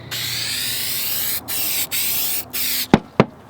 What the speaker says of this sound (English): We are using a fleece batting and some handy dandy spray adhesive.